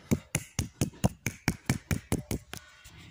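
Hand claps used to set off a phone-finder app: about a dozen sharp, evenly spaced claps in quick succession, close and clear, then a faint tone at the end.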